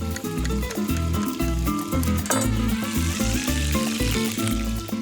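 Garlic shrimp for Spanish gambas al ajillo frying in a pan, a continuous bright sizzle running beneath loud rhythmic background music with a heavy bass beat.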